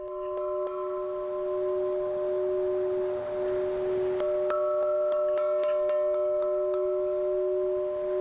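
A homemade doorbell at a teepee on a wooded hillside property rings with steady, sustained bell-like tones that hold and shimmer, joined partway through by a few sharper struck pings, fairly quiet and with no voices.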